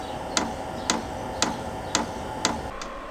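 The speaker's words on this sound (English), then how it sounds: "you start hearing ticking, which is the actual pump putting fuel through" The fuel pump of a VEVOR diesel heater burning red diesel in a garage ticks in a steady rhythm, five sharp clicks about half a second apart, over a constant whirring fan hum.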